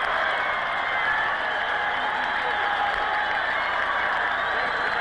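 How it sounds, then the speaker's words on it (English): A football stadium crowd at a 1989 Stephen F. Austin vs Georgia Southern college game roars in a steady, loud, sustained wall of cheering and applause after an interception, with no clear voices standing out. "Listen to this crowd go crazy now."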